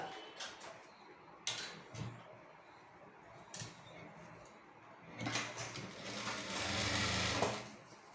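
A sewing machine stitches a folded hem on the bottom of a tulip-style sleeve, with soft close mechanical whirring in uneven bursts that swells louder toward the end, amid faint handling noises.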